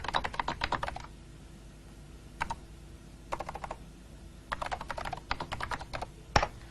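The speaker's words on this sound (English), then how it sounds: "and I can type." Typing on a computer keyboard running NeXTSTEP 3 in 1992, heard as bursts of rapid close key clicks separated by short pauses, with a single sharper tap near the end.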